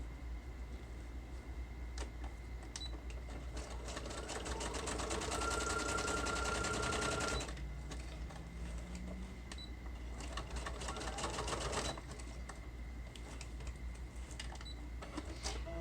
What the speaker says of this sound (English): This machine threads itself and it cuts the thread.